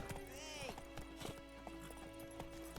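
Roach the horse's hooves clip-clopping on a road in The Witcher 3 video game, a steady trotting rhythm of close, distinct hoofbeats under game music, with a brief whinny-like tone early on.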